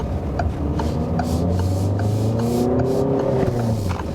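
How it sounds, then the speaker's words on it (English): A steady, loud diesel engine drone with rising harmonics as a Peugeot 2008 GT-Line accelerates through a corner, turbo coming in, a rough rumble throughout and no voices. "There you hear the diesel."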